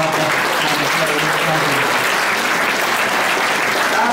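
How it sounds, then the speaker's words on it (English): An audience applauding loudly and steadily, a dense wash of many hands clapping throughout with a faint murmur of voices underneath. "So a little round of applause for Noel and"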